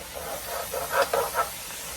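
Seasoned zucchini sizzling in a pan as it is stirred, a close, steady hiss with a few brief louder bursts of crackle.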